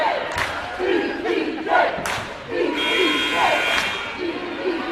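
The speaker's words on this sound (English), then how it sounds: "We've got the EPJ cheer chant coming from this sideline." Spectators at a high school volleyball game in a gym raise a loud, sustained cheer and chant from one sideline, voices surging in waves with sharp shouts and a brief buzzer-like tone over the crowd noise.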